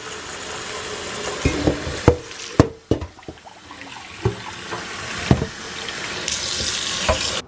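About 13 ounces of warm water runs and splashes into a bowl for bread dough, punctuated by clinks and knocks of kitchenware, with a steady pour swelling toward the end.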